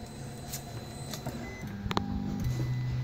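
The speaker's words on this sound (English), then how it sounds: "So now we're going to print a bench part of one of my uni projects." A Wanhao i3 Plus 3D printer runs, its stepper motors whining at shifting pitches in short stepped tones, with small clicks, fairly close and fairly quiet.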